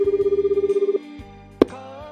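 A telephone rings during a call in a Japanese animated comedy. A rapid, steady warbling ring pulses about a dozen times, then cuts off and is followed by a brief click and a quiet tone.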